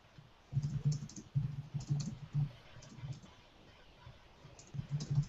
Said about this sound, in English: I hear somebody typing.